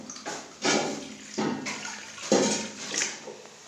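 Water is poured in several separate splashy bursts into fish pakora batter, each pour brief and close, with short pauses between them and no talking.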